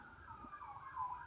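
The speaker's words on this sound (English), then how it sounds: "let the sirens pass real quick" Emergency vehicle sirens wail outside, a faint, steady rising and falling tone heard at a distance through walls over low traffic rumble.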